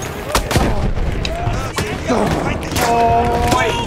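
Battlefield 1 battle audio: heavy explosions and artillery booms punctuate rattling gunfire. Sharp, loud blasts recur close by over a busy backdrop of combat noise.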